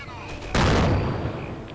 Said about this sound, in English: I'll try and shoot at it with my mortar